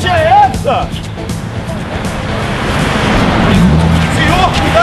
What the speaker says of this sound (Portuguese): Senhor, cuidado com o carro!